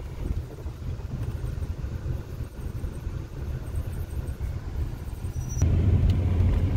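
A 1971 Buick Riviera boat tail car on the road, a steady low engine and road rumble heard from inside, growing slightly louder toward the end.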